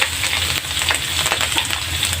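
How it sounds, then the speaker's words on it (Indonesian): Washed anchovies frying in a pan, a loud continuous sizzle with crackling pops and occasional stirring, no talking. "Kita goreng dulu teman-teman."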